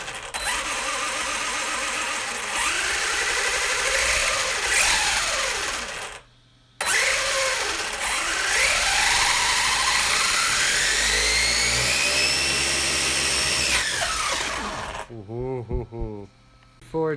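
A Traxxas Hoss RC truck's upgraded electric motor whines loudly and steadily, rising and falling in pitch, cutting out briefly mid-run before a final burst of revving.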